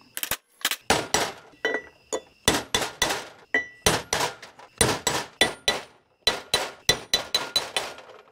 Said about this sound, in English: Let's just pound it in there. When I say pound, I mean lightly tap.